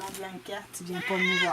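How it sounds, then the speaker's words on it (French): A house cat meows several times at close range, short plaintive calls mixed in with someone speaking French in a home setting. "Excusez, c'est mon chat."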